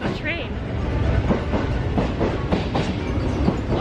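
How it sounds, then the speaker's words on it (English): A train rolls past nearby with a loud, steady rumble and rhythmic clickety-clack of wheels, along with faint voices. "Oh my god, what is that train?"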